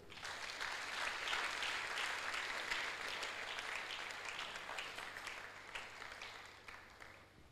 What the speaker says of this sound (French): Si nous pouvons applaudir pour eux.